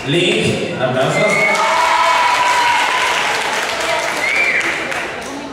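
A crowd at a yo-yo competition bursts into loud, sustained clapping with scattered voices and cheers mixed in, holding steady before easing off.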